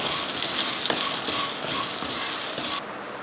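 Ginger, bay leaf and a handful of small shallots sauté in hot oil for a hotel-style chicken salna, a steady close sizzle with faint stirring that cuts off sharply near the end.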